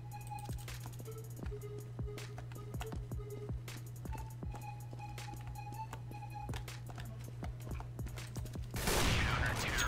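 Rapid bursts of gunfire in the video game CSGO, a dense run of sharp shots and near-continuous fusillade over a steady background hum, ending in a louder noisy burst.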